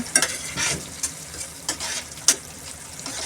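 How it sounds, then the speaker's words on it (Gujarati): Soaked besan being stirred into frying matar ragda in a pot: a soft sizzle under a handful of sharp spoon scrapes and clinks against the metal, close and moderately quiet, with no talking. "બધું બરાબર મિક્સ કરીશું એટલે બધા મસાલા બરાબર મિક્સ થઈ જાય"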